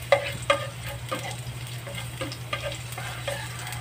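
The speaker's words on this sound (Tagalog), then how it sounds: "Gigisa natin ang bawang." Garlic sautés in a frying pan with a steady close sizzle, broken by a few sharp crackles and pops and the light scrape of stirring.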